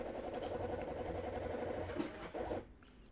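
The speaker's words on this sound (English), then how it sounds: "That is the printer printing." A receipt printer in a cafe point-of-sale setup prints a kitchen order with a fast, buzzing mechanical whir in short steady bursts, then stops abruptly, faint and in the background with no talk.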